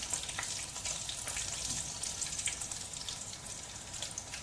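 Homemade shawarma chicken cooking in oil in a pan crackles and sizzles steadily at low volume, with light spattering pops and nobody speaking.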